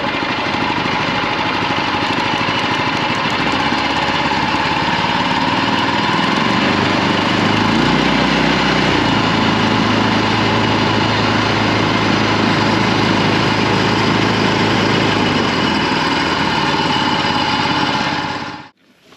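A Mud Skipper Twister Lite mud motor on a kayak runs loud and close with a steady, buzzy small-engine drone, holding an even pitch for most of the time before cutting off abruptly at the end.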